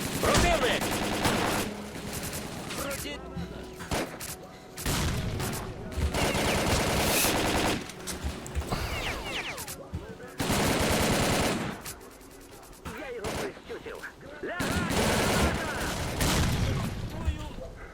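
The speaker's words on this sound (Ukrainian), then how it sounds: "Та в кого вони стріляють? Блін, гранати." Rapid bursts of automatic gunfire and explosions from a video game, loud and nearly continuous, with brief pauses between volleys.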